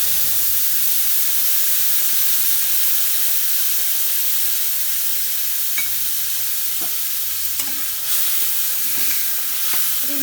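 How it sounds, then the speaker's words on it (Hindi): Masala spices sizzling steadily in hot oil in a home kitchen pan for paneer curry, a continuous close frying hiss with occasional stirring scrapes and small pops, no voices. "मसाला एते देर एकरा भूजे के छै जखन तक कि एहिमे से तेल नहीं छोड़ दे"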